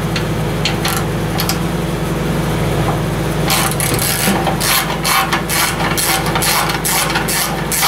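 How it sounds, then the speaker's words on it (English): A lawn mower's 15 HP Powerfist engine runs steadily at close range, a continuous low drone with repeated sharp broadband clatter and rattle bursts over it. "Mower's probably had enough running there now"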